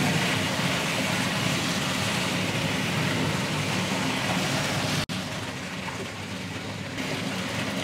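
A wet grinder churns red chutney at a Ramanagara hotel with a steady, loud, rough whirring roar. There is a brief dropout partway through, and then it keeps running.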